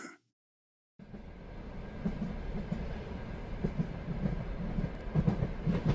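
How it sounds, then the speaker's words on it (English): Train rolling along tracks through open countryside at night, a steady low rumble with faint rhythmic clicks of wheels over rail joints, building slightly after a second of silence. "Let the gentle hum of the tracks soothe you"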